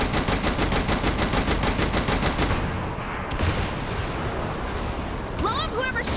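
Rapid automatic gunfire from enemies during a helicopter assault mission in Saints Row: The Third Remastered, a dense steady rattle through the first half, easing into a rougher din with brief game sound effects near the end.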